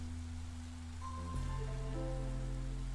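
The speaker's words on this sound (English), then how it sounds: "See, the rain seems to fall slower." Steady, close rain hiss from the video game Against the Storm, an even wash of falling drops layered with low sustained in-game music tones, no voices.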